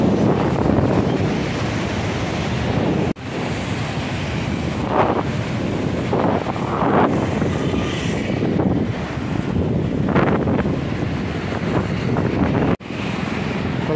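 The flooded Tinau river in Butwal roars as a loud, steady rush of swollen water, blended with heavy wind buffeting on the microphone and no speech.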